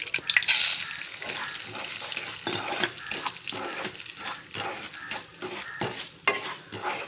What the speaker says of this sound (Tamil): இந்த நெய்யில் ரவை நல்லா வறுத்துக்கலாம்.